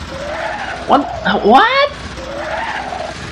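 Tires skid and squeal on a car in the game Banjo-Kazooie: Nuts & Bolts, with several rising and falling squeals over about a second, a brief spoken word in between, and game music running underneath.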